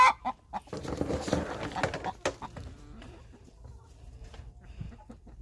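A backyard chicken flock, likely hens, clucks and squawks in a busy burst of overlapping calls early on, then settles into quieter, sparser clucks over low background noise.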